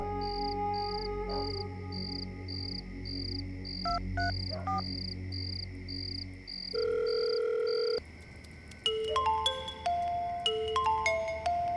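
Electronic phone tones of an outgoing call beep repeatedly, then shift to a steady tone and a series of higher ringback-style pulses, fairly quiet with no talking.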